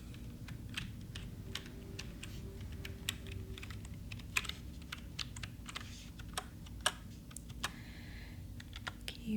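Typing on a computer keyboard in a quiet room, with close, soft key clicks tapping in an irregular, continuous run over a low background hum.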